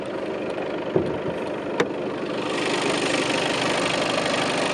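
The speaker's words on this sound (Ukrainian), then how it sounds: "І кілька хвилин роботу двигуна." Skoda Superb Scout 2020 engine idling steadily at close range, a continuous even hum with two brief sharp ticks early on and a slight rise in level partway through, no voices.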